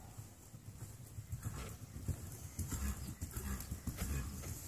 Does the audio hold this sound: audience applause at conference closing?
no